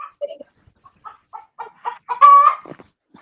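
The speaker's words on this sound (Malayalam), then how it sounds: "നമ്മള് പഠിക്കണായിട്ട് കോഴി വരെ ഉത്തരം പറഞ്ഞു തുടങ്ങി." A rooster crows once, loud and close, with short clucking calls from the fowl leading up to the drawn-out crow during an online class.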